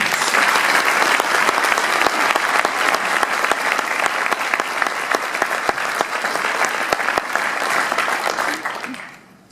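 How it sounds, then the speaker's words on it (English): At a Purdue Varsity Glee Club mothers' brunch, guests give Trevor a warm ovation, full, sustained clapping from a large room that holds strong and then fades out in the final second. "please give a warm a round of applause for Trevor."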